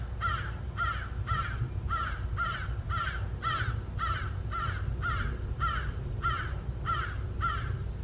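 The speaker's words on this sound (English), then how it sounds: "You guys did say you like the bird sounds." A crow caws in a steady series of about fourteen harsh, evenly spaced calls over a low background rumble, moderately close and alone with no talk.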